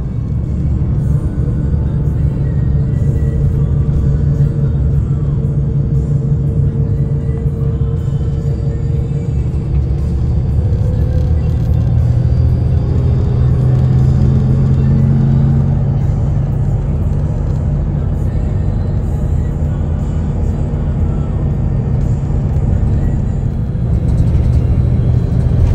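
A Menggala express bus on the road from Surabaya to Malang, heard from inside as a loud, continuous low engine rumble and road roar with slight shifts in engine tone throughout.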